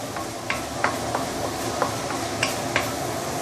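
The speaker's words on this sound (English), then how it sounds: "keep on stirring and saute 5 to 10 minutes" Assam pedas spice paste with ginger and lemongrass sautéing in a pan under steady stirring: a constant close sizzle with a handful of sharp spatula clicks and scrapes at irregular moments.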